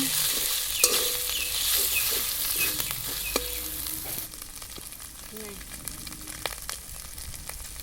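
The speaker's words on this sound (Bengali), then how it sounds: "মাছটা একদম ভেঙে গুঁড়িয়ে দেব যাতে মাছটা আরও ভাজা ভালো হয়" A fish head fries in a pan with spices and is mashed and broken up. Scraping and stirring knocks come over a lively sizzle, and the frying quiets partway through.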